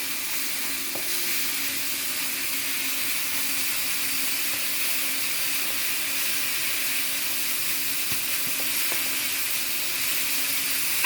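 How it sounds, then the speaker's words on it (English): Shrimp stir-fry ingredients sizzle and sauté steadily in a pot, a loud continuous frying hiss with faint stirring clinks, no voices. "It's sauteed for a little bit. Here we go in the pot."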